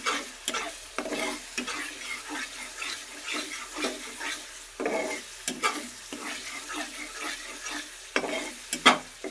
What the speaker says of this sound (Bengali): সব মশলা একসাথে কষিয়ে নিলাম